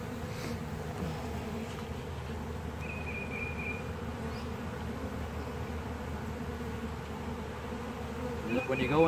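Honey bees buzzing steadily at an open hive during an inspection, a dense continuous drone close by with no speech over it.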